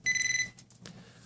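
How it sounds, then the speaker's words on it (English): A Garrett Pro-Pointer handheld metal detector gives a rapid, loud electronic beeping tone for about half a second, then goes quiet except for faint handling noise. "the tip of this device will start beeping"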